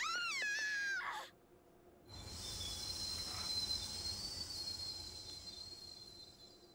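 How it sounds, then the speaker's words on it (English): A runaway train in the Persona 3 FES video game: a loud, sustained metallic screech of wheels on rails with rushing rumble, following a brief tonal burst and a short near-silent gap. "There's a train up ahead!"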